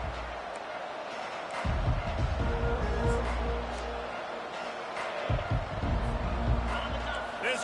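At a college football game against Oklahoma, a stadium crowd gives off a broad, rumbling roar that swells and fades in waves beneath continuous play-by-play commentary.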